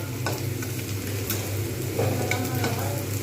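Onions frying in oil for beresta over medium-high to high heat, a steady close crackling sizzle with a low hum underneath and scattered utensil scrapes from stirring.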